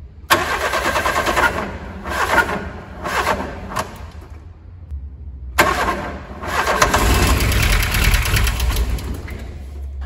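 A Volkswagen Saveiro engine cranks repeatedly in loud bursts with pauses, then catches and runs rough and uneven, misfiring with a knocking idle close by.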